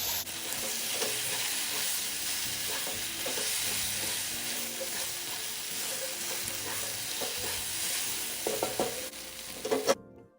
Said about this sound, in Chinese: 芹菜或青葱之类都可以，快火拌炒一会就可以离火了。